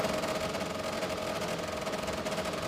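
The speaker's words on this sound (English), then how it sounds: "Noisy beasts, these saws, noisy beasts. That's a, sounds like a Wankel engine." A hot saw with a Wankel engine runs continuously at a timbersports world championship, producing a dense, buzzing drone that stays loud and even throughout.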